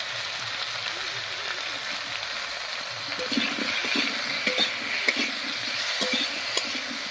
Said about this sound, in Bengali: এই অবস্থায় আলুটাকে একটু ভাজা ভাজা মতো করে নেব